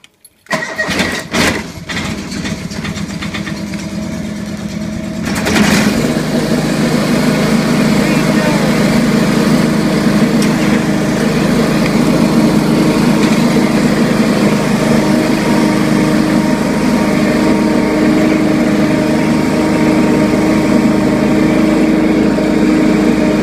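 A John Deere 445 lawn tractor engine fires on a cold start with a few sputters, then settles into a loud, steady, close idle that runs on evenly.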